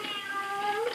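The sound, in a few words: cat meowing outside the door, radio drama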